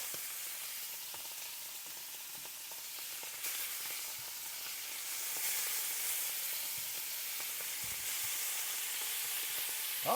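Sous vide top sirloin steaks searing in a hot pan, a steady close hissing sizzle that swells slightly midway and continues without speech.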